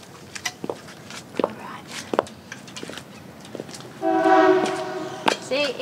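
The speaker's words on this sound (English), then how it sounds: "Little toot toot for Rosie." A train horn sounds a short toot partway through an outdoor walk, moderately loud and a little distant, between the sharp clacks of 7-inch high-heel shoes on pavement.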